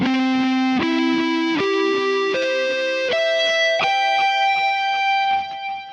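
Distorted electric guitar plays a slow single-note sweep arpeggio, with clean, separated notes stepping upward one at a time at an even, deliberate pace, loud and close with no talking.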